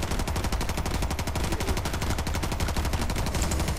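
Rapid automatic gunfire in the video game R.I.P.D. rattles continuously, a dense stream of sharp shots in quick rhythm, loud and unbroken with no talking.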